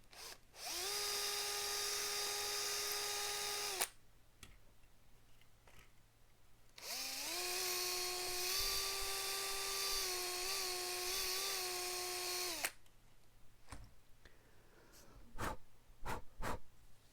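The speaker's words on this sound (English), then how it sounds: "Attack with the drill again." A power drill bores holes in an RC10GX89 replica RC car part, whining loudly in two long bursts with a pitch that dips under load, followed by short clicks and taps of handling the part.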